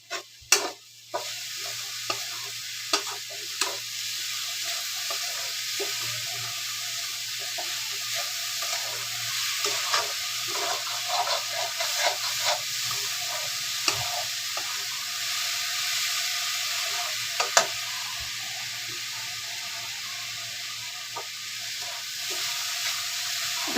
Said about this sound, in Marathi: तर सतत फिरवत राहायचं.